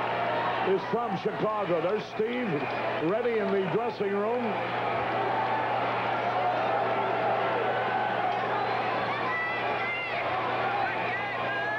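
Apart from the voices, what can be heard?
baseball stadium crowd cheering, Cubs at Pirates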